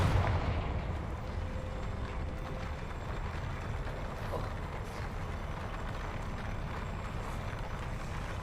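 Confringo blasting spell in the video game Hogwarts Legacy, a steady barrage of booming, crackling blasts with mechanical clanks that runs continuously at fairly low volume.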